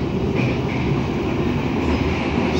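Inside the moving KA Ranggajati passenger train in Indonesia, a constant loud low rumble of wheels and carriage with faint rhythmic rail clatter, steady throughout with no talk.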